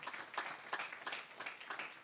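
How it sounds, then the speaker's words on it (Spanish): A church congregation claps for the Lord during a Spanish-language sermon, a quiet, distant patter of applause with soft rhythmic peaks, no voices over it. "Den un aplauso a nuestro amado Señor."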